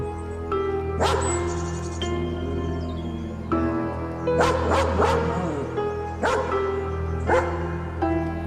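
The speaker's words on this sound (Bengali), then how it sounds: "তারস্বরে ঘেউ ঘেউ করতে শুরু করলো" A dog barks loudly and repeatedly in sharp bursts, some yelping and whimpering, close by with a steady background hum.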